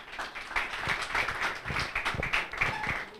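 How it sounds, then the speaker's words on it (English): Audience at a moot court competition award ceremony claps for the dean, a moderate crowd of hands beating in a quick, fairly regular rhythm, steady and close throughout. "So Dean, please, let's clap for the Dean and Dr."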